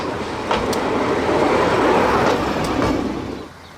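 A replica Model T Ford railcar RM4 and a Jury shunter TR18 rumble on a railway turntable, a steady loud mechanical clatter with a few sharp metallic clicks, fading out at the end.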